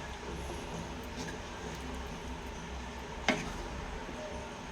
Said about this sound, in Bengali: লাস্টে ঘি আর গরম মশলা দিলাম, এবারে একটু ফুটে যাবে